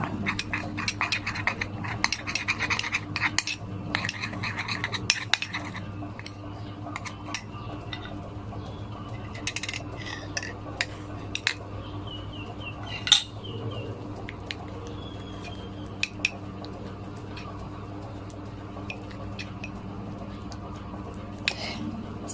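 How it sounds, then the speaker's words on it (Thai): A spoon stirs aloe vera gel and a powder together in a small bowl for a face mask, making light scattered clicks and scrapes over a steady low background hum. "เสร็จแล้วนะคะเราก็คนให้เข้ากันเลยค่ะ"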